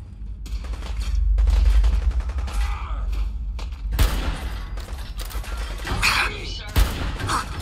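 Bursts of enemy gunfire in the video game Fallout 4, loud, repeated volleys of shots with sharp cracks, mixed with heavy low rumbling and combat noise.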